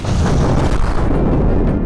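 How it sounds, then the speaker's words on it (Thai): A rocket blast in the planet-destroying game Solar Smash, detonating inside a planet: a deep, loud rumbling boom that swells and lingers throughout without fading. "เรายิงเข้าไป ระเบิดจากข้างในนะครับ"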